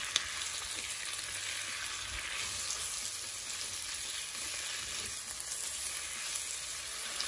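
Peppered shrimp sizzle steadily in a hot pot for Jamaican pepper shrimp, a dense, continuous crackling hiss with occasional soft stirring scrapes, close and fairly quiet, with no voices.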